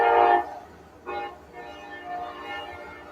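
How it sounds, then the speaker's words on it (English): A train sounds its horn in two blasts, a loud one then a shorter one, followed by a fainter rumble and rail noise as it passes at some distance. "Yeah, that was a train."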